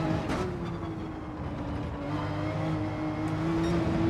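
A race car engine in Gran Turismo 7 holds a steady droning whine under throttle, loud and continuous, with the pitch sliding slightly as revs change.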